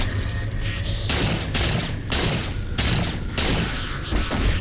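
Repeated bursts of weapon fire in Halo 4 during a fight with Covenant grunts, loud, close and rhythmic, several volleys separated by short gaps with no talk over them.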